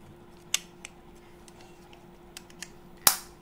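Plastic cover of a Genus 24V hybrid inverter being fitted, a few sharp plastic clicks and taps spread over a few seconds, ending in one louder snap, close and quiet with no speech.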